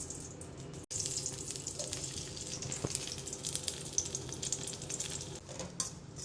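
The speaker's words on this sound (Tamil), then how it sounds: "கடாய் வச்சுக்கோங்க, நெய் போட்டு டோஸ்ட் பண்ண பிரெட்டை போட்டுக்கோங்க." Toasted bread frying in ghee in a kadai, a steady close sizzle running throughout with faint scraping and stirring, one brief break near the start.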